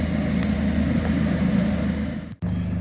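Peugeot 207 on a test drive with an anti-pollution fault, heard from inside as a steady low engine hum and road drone that dips briefly near the end, no speech.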